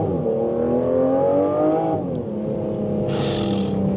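A 2025 Aston Martin Vanquish with a big front-mounted V12 pulls hard, its engine note rising steadily and loud, easing briefly, then building again, with a burst of hiss near the end.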